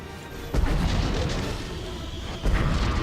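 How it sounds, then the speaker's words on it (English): Bombing-run explosions in Star Wars: The Old Republic, two deep booming blasts about two seconds apart, with a heavy rumbling roar sustained between them, loud and close. "Wow, that bomb seemed to land right on our heads."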